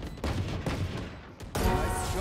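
Video game gunfire cracks in quick bursts from a first-person shooter match, loud and close, with a sharp burst near the end.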